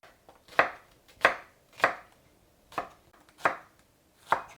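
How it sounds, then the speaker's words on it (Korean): Knife julienning a small onion on a cutting board, six crisp chops spaced at a steady, unhurried rhythm, close and clear with no talk. "채 썰어 줄게요"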